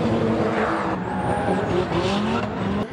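A drift car slides sideways with tire smoke at Tours Speedway during a French Drift Championship round, its engine roaring loud and close while tires squeal and skid in a sustained, wavering howl.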